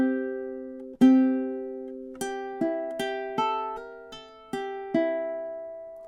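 Ukulele picks out a riff, a run of about seven plucked notes and chords with clear ringing tones and an uneven, syncopated rhythm, played close and alone with no talking.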